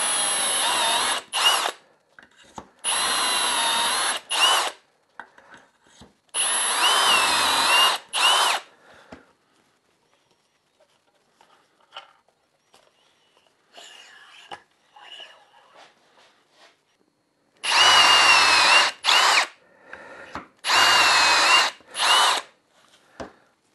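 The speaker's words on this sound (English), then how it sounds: "And I'm going to start drilling." Power drill boring holes in wood for an Arts & Crafts style end table leg, four or five loud whirring bursts of a second or two each, then a quiet stretch of handling noises before two more bursts.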